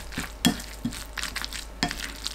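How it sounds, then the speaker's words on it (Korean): Napa cabbage being mixed with soy sauce, pepper, sesame salt and mayonnaise makes a short run of wet scraping, tossing sounds, several distinct strokes in quick succession, close and moderately loud. "진간장 1큰술, 후추 1꼬집, 깨소금 1큰술, 마요네즈 수북하게 2큰술 넣고 섞어주세요"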